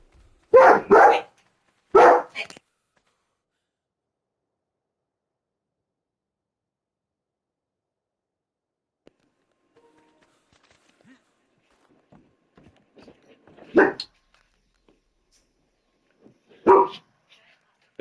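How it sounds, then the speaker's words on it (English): In-game dog from the survival game ARK barks in a few short loud bursts near the start, then a long quiet gap broken by scattered faint noises and two more brief barks or calls later. "I think your dog missed you, bud."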